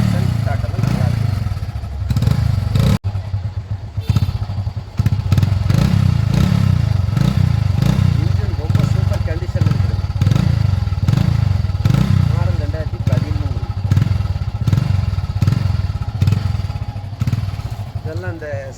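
A Bajaj Platina motorcycle engine idles steadily close by, its rhythmic low thumping pulsing evenly throughout, with a brief sharp clatter near the start and someone talking over it.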